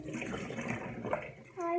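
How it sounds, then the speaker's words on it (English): Water runs into a small container for a few seconds, a steady rising tone toward the end as it fills, following a stretch of murky, indistinct noise. "you basically have to fill up the thing with water for like 30 seconds"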